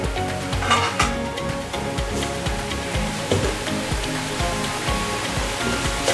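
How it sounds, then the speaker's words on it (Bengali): Steady crackling sizzle of food frying in a pan, close and fairly loud, with scraping and stirring mixed in. "আমাদের জিনিসটা কিন্তু একদম ভাজা ভাজা হয়ে গেছে"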